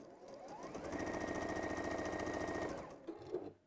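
A sewing machine stitching fabric, a rapid steady mechanical chatter that runs loud and even for about two seconds, then slows and stops with a couple of small knocks.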